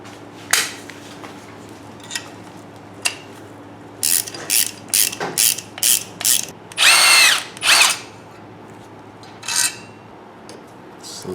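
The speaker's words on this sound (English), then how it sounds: "I'm gonna go ahead and clamp this down and back off the nut so I can put that through." A ratchet wrench backs off a nut on a drum-to-disc brake conversion assembly, with sparse clicks giving way to a series of close, loud ratcheting bursts and a couple of longer rasping pulls.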